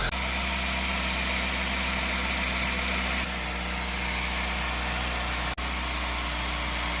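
A Honda HR-V engine idles steadily after an oil change, giving a continuous low hum and vibration that runs throughout with no talk, dipping once for an instant.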